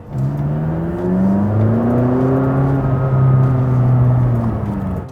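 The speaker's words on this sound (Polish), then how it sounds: "ok, czyli teraz przyspieszamy" A McLaren 570 GT accelerates hard, its engine note climbing smoothly in pitch as a steady, sustained whir and roar fills the whole clip, heard close from inside the car with no talk.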